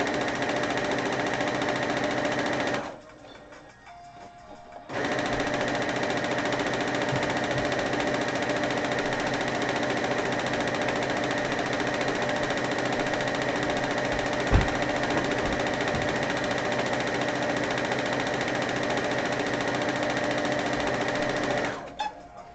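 A sewing machine runs steadily through a quilting session, a loud continuous motorized whir that cuts out briefly for a couple of seconds before resuming and carrying on unbroken to near the end.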